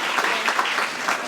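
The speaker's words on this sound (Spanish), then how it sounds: "So un aplauso para ellos, por favor." A short burst of audience applause at a Noche Jibara community event in Chicago, steady and fairly close with no voices over it.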